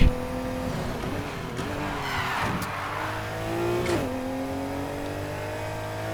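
A Nissan Skyline GT-R R32 engine revs in the racing game Need for Speed Heat, a loud continuous drone whose pitch climbs and dips between gear changes, with bursts of tire squeal partway through.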